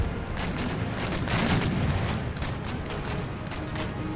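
Ship cannons fire round shot in a naval battle in Empire Total War, with dense overlapping booms and crackling volleys rolling on steadily and loudly and no voices.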